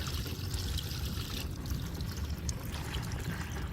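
Water flushes out of an off-grid water tank in a faint, steady gushing pour that runs without pause and with no voices.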